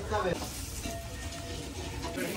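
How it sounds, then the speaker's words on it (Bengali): Potatoes fry in oil at an outdoor picnic, giving a close, continuous sizzle with some stirring, while a voice talks over it at the start. "এই যে এবার আলুগুলোকে ভেজে নিচ্ছি।"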